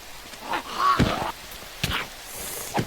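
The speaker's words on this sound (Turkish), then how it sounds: "Fil var lan burada." An elephant in a Minecraft zombie mod gives a brassy, honking trumpet call, then a few shorter bursts follow over faint background noise.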